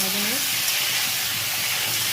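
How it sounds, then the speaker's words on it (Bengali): Potatoes with salt fry in hot oil, giving a steady, close sizzle that runs the whole way through, with a brief tonal sound near the start. "তেল গরম হয়ে গেছে, আলুগুলো দিয়ে দেবো। নুন দিয়ে দিলাম, আলুটা ভাজাভুজি করে নিই।"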